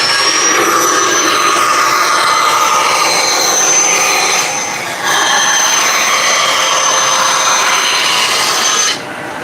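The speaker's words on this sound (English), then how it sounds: "Just cutting some stock. On the trusty dusty jet." A Jet woodworking machine cutting stock for a guitar plug in a luthier's shop, giving a loud, steady whining rasp that dips briefly midway and stays continuous and close throughout.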